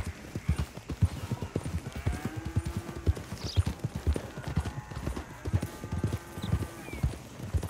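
Horses' hooves clop in a quick, steady gallop during a ride in Red Dead Redemption 2, loud and close, with faint whinnies and rising tones layered over the rhythm.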